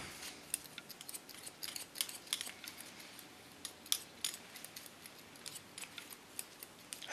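Scissors snip hair during a pixie cut, giving rapid, light metallic clicks in irregular bursts. The cutting sounds close and quiet over a soft background hiss, with no voices.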